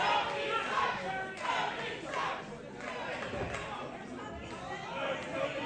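An indie wrestling audience at Havoc and Haze 8 keeps up a chant jeering Tony Twist, a steady mass of voices at moderate loudness in a busy arena, with loose crowd chatter underneath.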